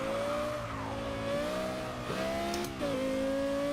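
A Lexus LFA race car engine in the video game Forza 6 roars and revs steadily, pitch climbing and dropping sharply as gears shift quickly, with a brief tire squeal.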